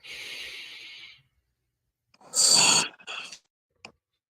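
Slow, deep breaths during a guided breathing exercise at the end of the day: a long soft exhale, a pause, then a fuller, louder breath and a brief final puff, close and alone.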